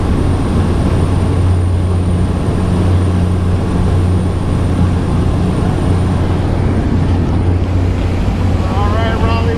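A skydiving plane's engine drones loud and constant through the cabin, a heavy low hum with wind buffeting throughout, and a voice cuts in briefly near the end.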